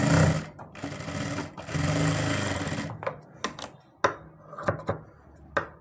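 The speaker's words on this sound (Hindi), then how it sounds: "अब दोस्तों ये अस्तर उठा हुआ है तो उसके लिए हम देखिए इसके किनारे पर सिलाई लगा देंगे" An electric sewing machine stitches along the edge of a suit's lining fabric. It whirs loudly and steadily for a few seconds, then stops, leaving scattered clicks and handling knocks.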